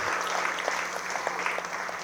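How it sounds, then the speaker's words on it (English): Audience applause at a city's State of the City address, steady clapping from a crowd filling the whole stretch without a break. "How about another round of applause for Zach?"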